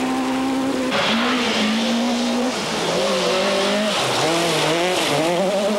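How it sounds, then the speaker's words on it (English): A small Nissan rally car accelerates hard uphill on a 1996 Midland Rally stage, its engine note climbing and dropping through gear changes, loud and close throughout with no talk. "With a little Nissan, let's see how Higgins gets the power down here"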